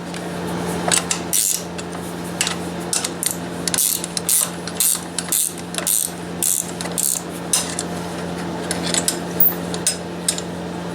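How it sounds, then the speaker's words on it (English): Removing bolts on a Honda Africa Twin CRF1000L motorcycle with a 12mm ratcheting wrench, a close series of quick metallic ratchet clicks in short bursts over a steady hum, with no talk. "we'll be taking a 12mm wrench and removing these two bolts here to install the bracket onto"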